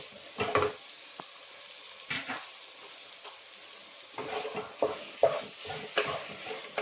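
Pasta with capsicum and chicken being stirred and mixed in a pan: a quiet steady sizzle runs under a series of scraping, clattering stirring strokes, irregularly spaced, with no talking.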